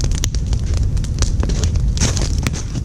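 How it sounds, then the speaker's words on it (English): An outdoor survival campfire of logs burns close by with a low roar and dense, irregular crackles and pops, with no talk. "this fire here, I can say, is putting out a ton of heat"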